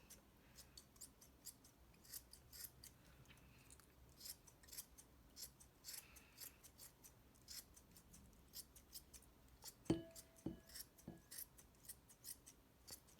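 Scissors snip at a yarn pom-pom, shaping a banana pom-pom, in quiet, rapid, irregular little cuts, close and soft, with a few louder clicks near the end.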